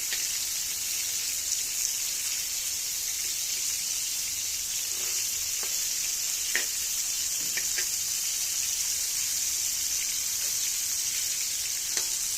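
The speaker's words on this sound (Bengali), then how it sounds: "ভালো করে ভেজে নেব।" Chicken pieces frying in a pan give a steady, close sizzle throughout, with a few faint clicks and taps of stirring scattered over it.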